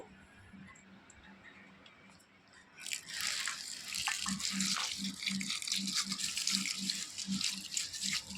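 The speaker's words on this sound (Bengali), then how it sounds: "চালটা আমি একটু ভালো করে জল পাল্টে দুবার তিনবার ধুয়ে নেব" Rice being washed in a large bowl, with water swishing and grains rattling against the sides, starting quietly and turning louder and steadier after a few seconds, close up.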